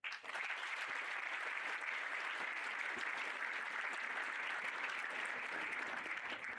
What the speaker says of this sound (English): And I want us to clap for those students before we move on.